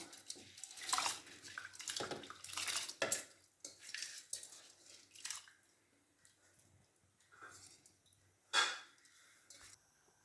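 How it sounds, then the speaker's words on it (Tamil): Washed rice and lentils go into a pot for a black-eyed pea rice dish, with a scatter of clinks, scrapes and soft wet spills, busiest early on and closing with one sharp metallic knock. "அதையும் இதோட அரிசியும் பருப்பையும் கழுவி வச்சுருக்கேன் இதை அதோட சே போட்டுருவோம்"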